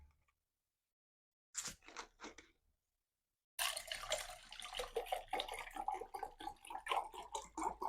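Water poured into a bowl of squeezed lemon juice while making a lemon drink, a close splashing, trickling pour running steadily after a short earlier burst of liquid noise.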